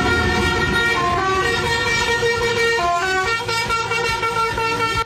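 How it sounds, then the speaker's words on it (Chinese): A large vegetable-hauling truck blasts its horn at a street intersection near a fruit and vegetable market in Sanchong, Taiwan. Loud, sustained honks shift in pitch and pulse in a tune-like rhythm over steady traffic noise. "大货车喇叭声引人注意"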